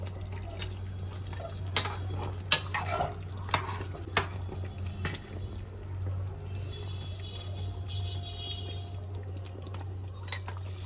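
Chicken biryani ingredients stirred with ghee in a pot, giving soft scraping and wet clinks with a few sharp utensil knocks over a steady low hum, close and fairly quiet.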